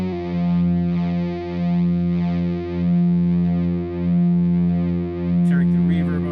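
A guitar run through the clean channel of an amp-simulator app with gain added plays long sustained notes that swell and fade in a slow, even rhythm, loud and close with a slightly distorted tone, and a brief noise comes near the end.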